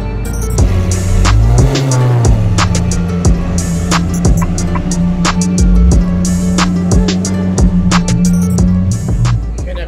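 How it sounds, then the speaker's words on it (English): A Lamborghini Aventador engine runs very loud at close range, with a deep steady drone and a sharp rev early on, plus clicks and knocks over the roar. "This thing is super loud, man. This is one of the loudest Aventadors."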